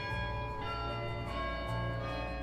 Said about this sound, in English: church bells ringing and a Muslim giving a sermon